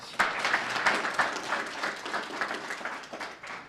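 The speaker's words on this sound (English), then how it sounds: "Round of applause for JCTV, please." A crowd applauds with dense, steady clapping that gradually tapers off, fairly close and moderately loud.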